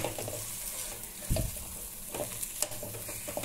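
Wheat flour halwa being stirred in a pan on the stove, with a low steady sizzle and scraping spoon strokes, one louder scrape partway through, close by with no talking.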